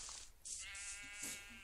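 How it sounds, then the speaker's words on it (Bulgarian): A sheep in a Minecraft-style video game gives two bleats, each a bright, nasal call, fairly faint and heard alone with no talk. "Овце"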